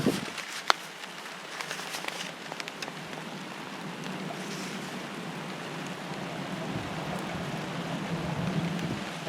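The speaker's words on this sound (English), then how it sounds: "I'm going in greenhouse, it's raining now." Steady rain patters outside a greenhouse on an allotment, a soft continuous hiss of drops with a few sharper taps, and no voices.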